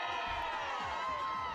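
A crowd of spectators at a girls' under-17 national championship softball semi-final cheers and shouts, a loud, continuous roar of many voices with some whoops throughout.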